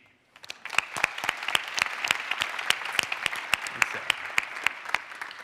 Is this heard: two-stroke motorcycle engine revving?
no